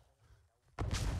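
Explosive charge detonated in the Arma 3 Vietnam-era S.O.G. Prairie Fire scenario: a sudden heavy boom rolls in after a quiet moment and carries on as a loud sustained rumble.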